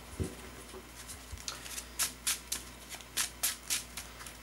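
A deck of playing cards being shuffled by hand during a card game, a series of soft, crisp riffling bursts in quick succession, close and fairly quiet, with no voices.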